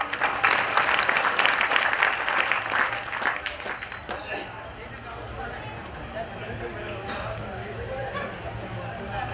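Audience clapping at a Gujarati satsang rises in a dense burst for the first few seconds and then thins out into quieter room sound.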